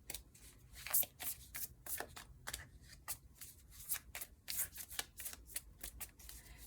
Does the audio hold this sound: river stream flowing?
no